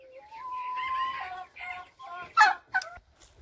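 Dwarf bantam hens cluck and call in a backyard flock, a few close, varied squawks and clucks rising and falling over about three seconds, with a louder sharp burst near the end.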